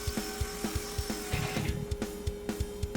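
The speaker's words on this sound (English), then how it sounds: "by sanding the legs down." Wooden table legs being sanded for a hidden-drawer furniture build, with short rhythmic rasping strokes repeating roughly every quarter second over a steady machine hum, close and moderately loud.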